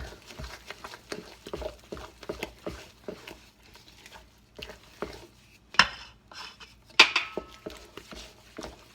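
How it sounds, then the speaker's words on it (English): Sticky zwieback dough being stirred in a bowl makes irregular wet slaps and soft knocks of a utensil against the bowl, close by, with a couple of sharper clinks partway through. "stir to make smooth"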